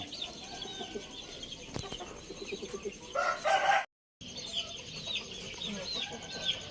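Chickens cluck and a rooster crows on a farm at duck and chicken feeding time, with calls at moderate distance and a brief dropout in the middle.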